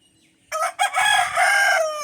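A single loud, close rooster crow from a rooftop, rising and held for about a second and a half against a quiet background.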